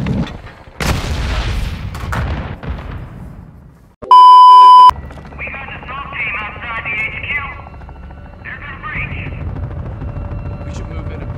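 Gunfire in Call of Duty: Modern Warfare II, with a few sharp shots early on, then a loud steady electronic beep tone and a droning engine or rotor hum alongside bursts of radio-like chatter and talking.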